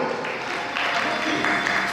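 Audience applause at a Shrimad Bhagwat katha in Vrindavan fills the whole stretch as a steady, dense clapping wash from a large crowd.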